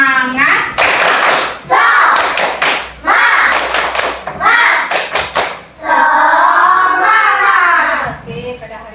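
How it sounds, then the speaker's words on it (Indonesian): A class of young children doing a rhythmic cheer clap, loud bursts of clapping in a set pattern alternating with chanted lines in children's and a teacher's voices, close and lively. "Yuk, tepuk semangat."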